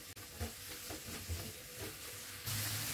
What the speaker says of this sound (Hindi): अब मैं इसमें शामिल कर दूंगी गार्लिक पाउडर और इसको अच्छा सा फ्राई करेंगे।